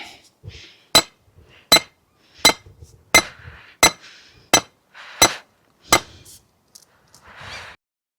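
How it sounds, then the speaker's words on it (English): Sharp, loud hammer strikes ring out one by one at a steady, roughly even pace during outdoor garden work on a windy day, with faint rustling between blows. "Let's do some pro hammering."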